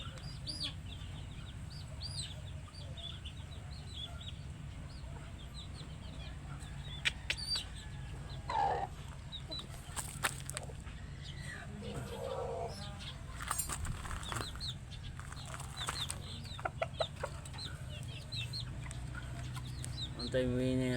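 Chickens cluck and a rooster calls amid a busy farmyard of fighting cocks, with occasional wing flaps and faint voices in the background.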